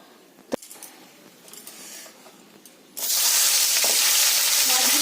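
Spice paste of green chillies, boiled tomato, boiled onion, chilli powder, turmeric and cumin powder hits hot oil: after a few light taps and scrapes, a loud steady sizzle and hiss bursts in and continues, close up.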